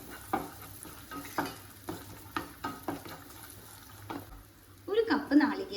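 A sweet filling of chopped cashews and raisins being stirred in a pan, a series of soft rhythmic scrapes and knocks at a moderate distance, ending in a brief burst of clattering.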